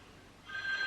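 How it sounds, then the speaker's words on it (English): A telephone rings in a quiet room where someone is knitting a small project, a thin steady electronic tone entering partway through and continuing, fairly faint and alone without talk. "and that's my phone"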